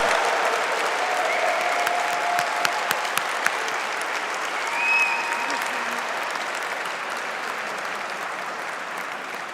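Sustained applause from a commencement audience for the 2020 master's degree graduates, a broad even patter of many hands clapping throughout, with a few sharper individual claps and a brief cheer midway.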